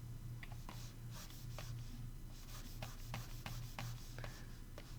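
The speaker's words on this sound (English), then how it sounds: "I'm using the Wacom tablet to fine-tune it and navigate through the image so quickly." A stylus moves across a Wacom tablet in soft, rhythmic rubbing strokes with light taps, faint and close over a steady low hum.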